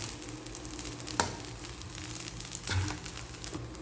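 Fried rice with seasoning being stirred in a pan, a soft sizzle beneath a few scraping, crinkly stirring strokes, quiet and close with no voices.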